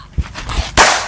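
Homemade firecrackers go off outdoors: a couple of small dull pops come first, then one sharp, loud bang that cracks and rings out briefly at close range.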